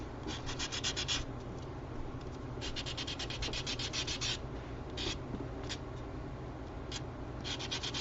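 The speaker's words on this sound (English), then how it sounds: "you can get a little file, and some of them sharp edges, you can just sand them down" Small cured UV resin photo charm edges are filed and sanded by hand, producing close, quiet rhythmic rasping strokes in short bursts with brief pauses, no voices.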